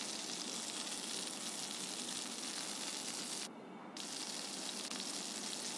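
Half a cup of plain water poured into a hot pan while cooking kochur korma, giving a steady loud sizzling, gushing hiss that runs throughout with a brief dip near the end.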